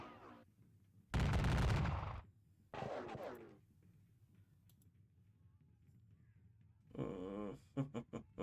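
Gunfire from a video game battle set at the Napoleonic battle of the Katzbach: a loud crackling volley, a shorter second burst, then a ragged series of shots near the end, with quiet gaps between.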